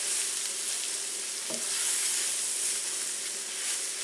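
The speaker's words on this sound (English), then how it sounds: "You just stir that in." Flour being stirred into melted butter in a pan for chicken fricassee sauce, a steady hissing sizzle with a spoon knock near the middle, close and even throughout.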